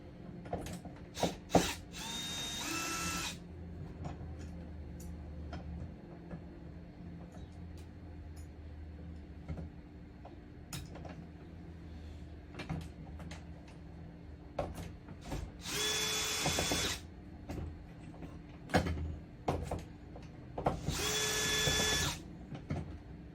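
Cordless power drill driving screws out of an RVLock door lock during installation, three short whining bursts, one at the start and two near the end, over a quiet background with faint clicks and handling noise.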